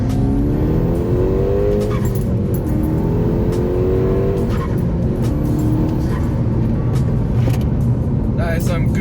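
Car on new Michelin Pilot Sport 4S 235/35 R19 tyres accelerating hard in second gear, engine note climbing steadily and loud throughout without wheelspin, with a voice talking over it.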